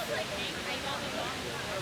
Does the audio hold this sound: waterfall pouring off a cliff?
yes